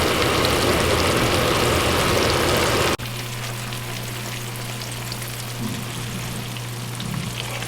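Loud, dense sizzling of catfish fillets frying in hot grease, then a sudden cut to a quieter, steadier crackle with a low hum underneath.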